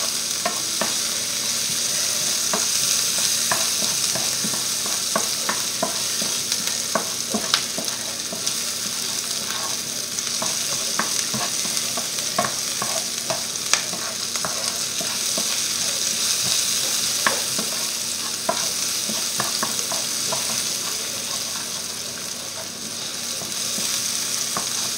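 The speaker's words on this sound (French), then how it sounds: "On fait revenir nos oignons à peu près" Onions sautéing in a pan give a constant close sizzle, with frequent scraping and tapping clicks from stirring spread through the whole stretch and no speech.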